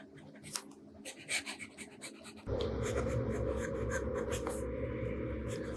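Sailor fountain pen with a stub nib scratching across paper, a soft close dry scraping in short strokes at first, then a steadier, louder continuous rubbing texture.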